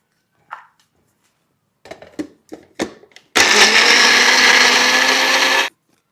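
A kitchen mixer grinder runs for a couple of seconds, grinding garlic and ginger into paste, a loud steady whirring drone after a few clacks and knocks of preparation.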